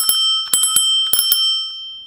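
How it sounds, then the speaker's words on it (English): The handlebar bell on a Ninebot Max electric scooter is struck several times in quick, uneven succession, giving bright metallic dings that ring on and fade in a quiet room. "the cool thing is the bell"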